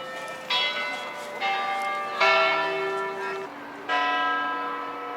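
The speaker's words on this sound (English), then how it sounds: "Clock's chiming out because it is 12 o'clock, lunchtime." Clock tower bells of Copenhagen City Hall ring out at noon, several rich, resonant strikes spaced about a second apart, each ringing on and overlapping the next, loud and clear outdoors.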